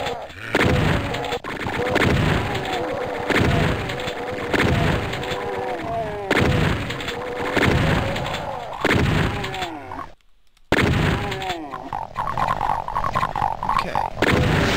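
Rapid gunfire and chaotic combat noise from chaingunner enemies in Doom II, loud repeated bursts in steady waves with a brief drop to near silence partway through.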